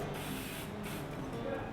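Hairspray is sprayed onto hair in two quick hissing bursts, close and fairly loud, with no talk over it.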